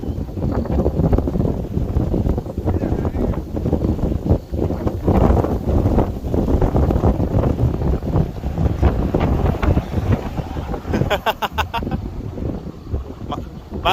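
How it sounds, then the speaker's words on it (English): Strong gusting wind roars loudly across the microphone while riding an e-scooter on a very windy day, a constant buffeting rumble with a voice talking underneath. "it's hard to walk against that wind"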